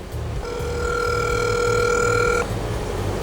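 A phone ringback tone plays loud and close through a Zen Ultrafone 701 HD loudspeaker, a steady electronic ring sustained for about two seconds over a low background hum.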